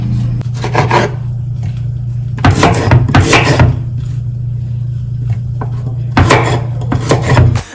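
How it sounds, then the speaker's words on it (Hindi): Turmeric root and tomato rubbed against a metal grater in a home kitchen, giving close, loud rasping strokes in bursts separated by short pauses over a steady low hum. "इतनी हल्दी को टमाटो के साथ ग्रेट करेंगे"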